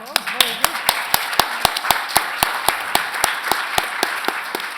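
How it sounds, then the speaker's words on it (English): Audience applause at a civic forum panel session, steady rhythmic clapping carrying on for several seconds with sharp, evenly spaced claps standing out over the crowd. "I think a round of applause."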